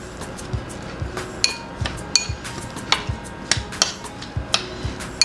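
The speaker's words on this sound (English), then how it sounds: "I'm gonna mix everything" A utensil beats eggs with cracked pepper and garlic paste in a bowl, making a steady run of sharp, close clinks and taps against the side, with no talk.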